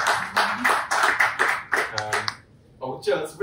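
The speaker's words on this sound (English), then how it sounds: "that's really generous applause," Audience applause at a political speech on cancer care, arriving after a joke: a stretch of scattered, moderately loud clapping that pauses briefly, then resumes, with a voice speaking over parts of it.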